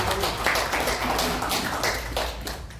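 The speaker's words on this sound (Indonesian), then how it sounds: "Mari kita beri tepuk tangan dulu buat Pak" Scattered hand clapping from an audience at an Indonesian civil-protection briefing, moderately quiet and uneven, with a few distinct claps standing out and a faint voice mixed underneath.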